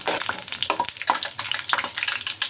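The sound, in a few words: fenugreek seeds and chana dal frying in oil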